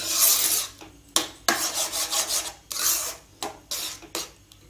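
A spoon scraping and rasping through bread halwa in a pan as it is stirred to keep it from sticking: repeated close, gritty strokes with short pauses between them and no voices.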